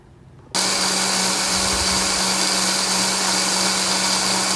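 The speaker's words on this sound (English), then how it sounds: "we're going to put each section in the food processor or the blender" A blender switches on abruptly after a brief quiet moment and runs at a steady high whir until the end, chopping kataifi dough into crumbs.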